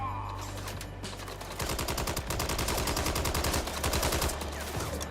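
Rapid automatic gunfire from Red Dead Redemption 2 starts after a brief lull and runs as a loud, dense string of shots that rattles on for several seconds.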